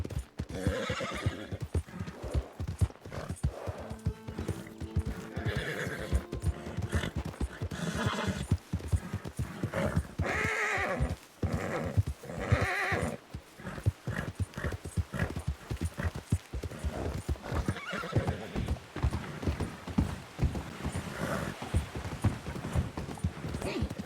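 A horse galloping and neighing in the video game Red Dead Redemption 2, with a steady rapid clip-clop of hooves running throughout, broken by several loud whinnies, close and prominent.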